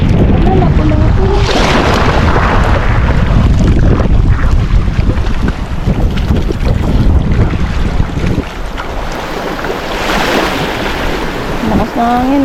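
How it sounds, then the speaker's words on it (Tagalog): Strong wind roars across the microphone on a fishing boat at sea, loud and steady, with waves washing around the hull and brief voices underneath. "Lakas na hangin ay."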